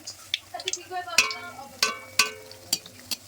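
Malpua batter frying in oil that is not yet very hot, with a soft, steady sizzle under a series of sharp utensil clinks and taps against the pan.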